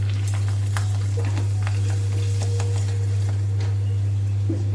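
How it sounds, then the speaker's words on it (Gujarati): Homemade bhungda tubes fry in hot oil beside potatoes (bataka), giving a steady, close sizzle with scattered crackles and pops over a constant low electrical hum, and no one speaks. "બધા જ ભૂંગળા આપણે આવી રીતે તળી લઈશું હવે."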